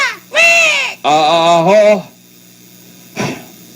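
A caged pet bird gives two long, loud harmonic calls close by, then falls quiet, with one brief fainter call near the end.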